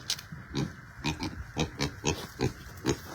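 A hungry farm pig grunts repeatedly at dinnertime, short low oinks coming close and loud in an uneven rhythm, roughly two per second, with no talking over them.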